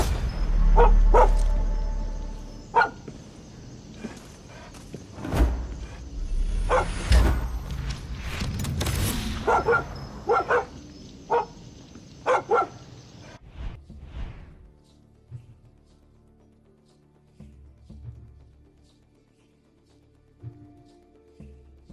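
Boom Boom, a small dog in the video game Far Cry 6, yips and barks in quick, loud bursts over busy game noise. The barking dies away partway through, leaving only a quiet background.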